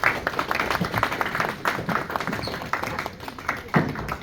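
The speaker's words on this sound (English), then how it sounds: "Give a round of applause to all the 6A's." Modest applause from a small group at a sales team gathering: scattered, uneven claps running for a few seconds, fairly close.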